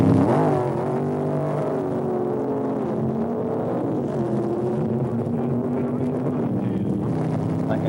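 A race car runs at Dover, one of the cars from Jack's shop, heard as a loud, continuous engine drone whose pitch wavers and shifts slightly, with wind rushing over the microphone.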